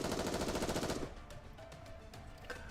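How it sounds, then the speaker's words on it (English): A rapid burst of automatic gunfire in the video game Nikke, loud and rhythmic for about a second, then stopping abruptly into quieter scattered noise. "She proceeds to unleash a barrage of gunfire forwards"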